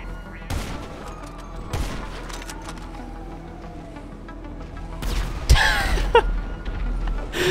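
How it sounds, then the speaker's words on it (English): Missiles from a Sparrow helicopter come wailing in during a GTA Online session, rising whines and bursts with a loud blast near the end over a steady game din, no voices. "Just hear the missiles come wailing in."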